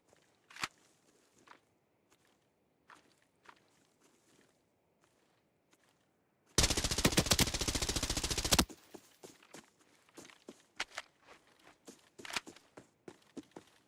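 Automatic fire from an AK-12 rifle in the shooter game Arena Breakout: Infinite: a loud two-second burst of rapid shots near the middle, with scattered footsteps and movement before and after.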